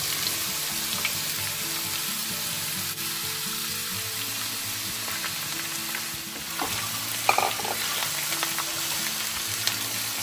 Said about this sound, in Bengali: এরপরে এর মধ্যে চাল কুমড়োটা ঢেলে দেবেন।